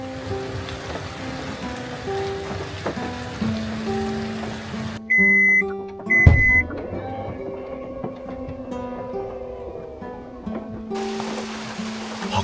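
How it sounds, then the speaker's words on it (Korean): Heavy rain pours steadily on an electric car parked for overnight camping at a forest campground, its trunk open; a dense, even hiss fills the whole stretch, with a couple of brief electronic beeps midway. "밖에 비가 꽤 많이 오고"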